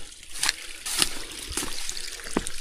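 Water from a freshly watered garden plot dribbles and splashes in several separate drips and trickles, close and fairly quiet, with no talking.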